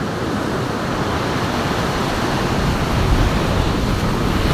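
Rough sea waves breaking on a sandy beach beside a family campsite, a constant loud roar of surf with wind rushing over the microphone, no voices.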